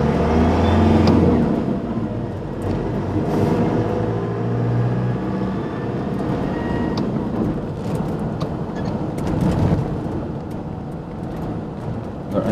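A car drives over a narrow village bridge on the Isle of Skye, its engine a steady, close rumble with road noise throughout and a few faint clicks and knocks, no talking.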